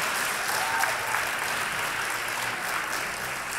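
An audience at a philosophy lecture on democracy breaks into sustained applause, a dense even wash of many hands clapping with no pauses throughout.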